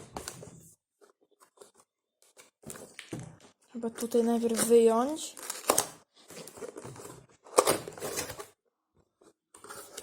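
A Genesis Thor 200 RGB keyboard box is opened, with close crinkling and rustling of cardboard and plastic wrapping in bursts between stretches of someone talking.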